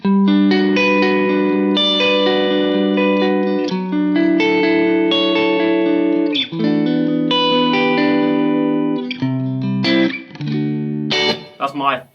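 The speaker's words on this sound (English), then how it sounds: "so this is the neck and the bridge pickup" Telecaster electric guitar in the middle pickup position, neck and bridge together, strummed in a run of ringing chords with reverb, loud and steady with brief gaps between changes.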